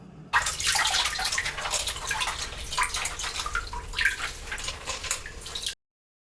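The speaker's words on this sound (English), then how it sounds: "take it out, squeeze out the excess water" Water streams and drips from dyed fabric being squeezed out for shibori dyeing, a close splattering flow that starts abruptly, wavers for about five seconds and cuts off.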